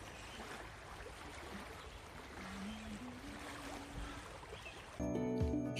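A waterfall flows in a forested resort setting, its steady broadband rush filling the clip at a moderate, distant level, ending in a sudden louder burst of clatter and tones.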